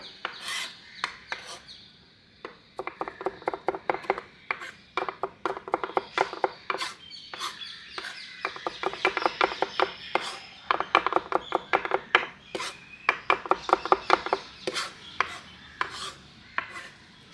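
A kitchen knife chops cherry tomatoes for pasta on a cutting board in quick, steady taps, rapid clicks repeating close and clear for many seconds with only short pauses.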